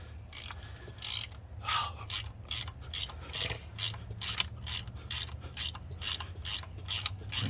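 Universal stud extractor from OEM Tools gripping and turning out a broken bolt stud, with fast repeated ratchet clicks and metallic grinding, close and fairly quiet, in a steady rhythm.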